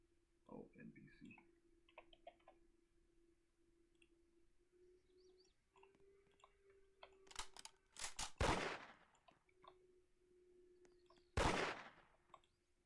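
Gunfire from a Roblox Studio combat system test: after quiet stretches, a few sharp electronic clicks give way to two loud, broad bursts of shots, each ending quickly, with faint background game tones between them.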